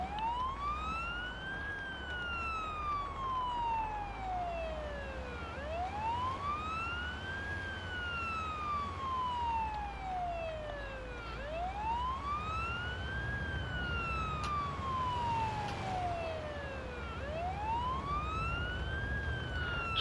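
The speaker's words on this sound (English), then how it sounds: "So that's the benefit of the siren." A continuous wailing ambulance siren in the video game Ambulance Life: A Paramedic Simulator, rising and falling in slow regular sweeps for about twenty seconds over a low engine hum, loud and steady with no talking.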